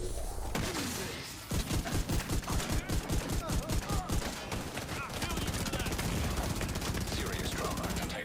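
Shotgun fire in The Division 2, a rapid run of sharp blasts in steady rhythm, then denser, continuous gunfire and combat noise with a voice briefly underneath.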